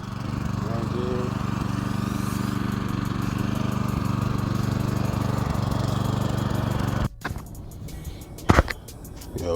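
A go-kart's small engine runs steadily after carburetor cleaning, a close buzzing drone with a constant rhythm that suddenly drops and sputters near the end before revving back up.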